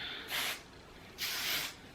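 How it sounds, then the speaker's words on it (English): Two short bursts of Joico Ironclad hair protectant spray misted into hair, each a soft hiss lasting about a quarter second, close and fairly loud with a brief pause between them. "So the first thing I'm going to do is shake up my Joico Ironclad. And I'm going to spray this in my hair."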